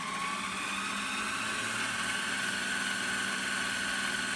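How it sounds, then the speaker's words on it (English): A DT1 magneto run up to speed for a 6 volt regulator test gives a steady, continuous mechanical whine and hum with a high tonal line, close and even throughout with no talk. "Over here I've got a DT1 magneto that I'm going to run up to speed"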